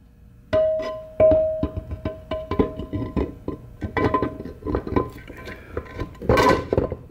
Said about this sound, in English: So the counter gear goes back in next